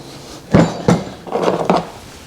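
A metal fork bushing, coated with oil on its inside, slides onto the fork tube of an Indian motorcycle front suspension, giving two sharp clinks and then a brief scraping, rattling slide, close and alone.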